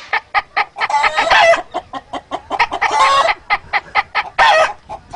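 A man imitates a hen cackling after laying an egg: rapid, rhythmic, close clucks broken by three louder, drawn-out squawking bursts, all vocal and dry.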